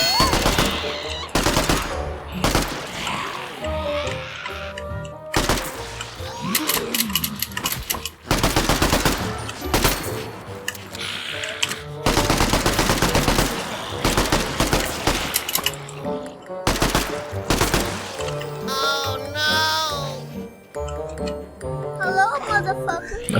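Repeated loud bursts of rapid automatic gunfire in the video game Zelter, volleys separated by short pauses, with a voice talking between them.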